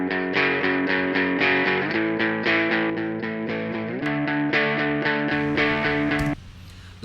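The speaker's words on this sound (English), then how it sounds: "Okay, electric funk guitar." Electric funk guitar from a Logic Pro X plugin, bright strummed and rhythmic chord stabs with a crisp, slightly distorted tone, playing alone for several bars before stopping abruptly.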